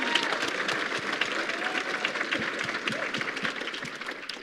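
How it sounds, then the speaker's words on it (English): Crowd at a farming event applauding speakers, many hands clapping in a steady, moderately loud wash with individual sharp claps standing out, a few voices faint underneath. "Can we give them a round of applause even before they speak?"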